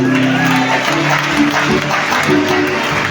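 An audience applauds loudly and continuously, dense clapping from a large crowd with a few voices mixed in.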